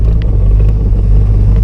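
A car with a failing CV joint, iced over and driving through water on a fishing trip, gives a loud, steady engine rumble with a few faint, brief metallic clicks rising over it.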